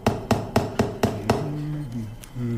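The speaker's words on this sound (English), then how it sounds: "isn't it a bit dangerous holding the nail steady with your teeth while you hammer it in?" A hammer drives a nail into a chair under repair in six loud, close, evenly spaced blows, then stops as a low voice starts speaking.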